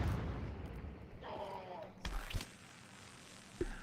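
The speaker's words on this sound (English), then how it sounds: "Let's let the explosions go off." Explosions and weapon bursts in the VR archery game In Death: Unchained, a couple of muffled booms and a sharper blast scattered across a few seconds beneath quiet game ambience.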